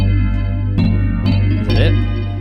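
A Fantasia synth preset called Digital Sensations plays from UVI Vintage Vault, a bright, layered digital tone with a sustained low drone and several loud overlapping chord stabs.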